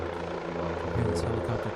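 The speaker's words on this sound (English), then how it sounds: "Here's this helicopter taking off" A helicopter lifts off near a disc golf course, its steady rotor and engine drone filling the background at moderate distance while a commentator talks over it.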